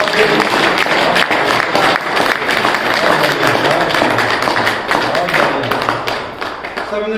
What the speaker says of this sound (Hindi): सबने तालियां बजाई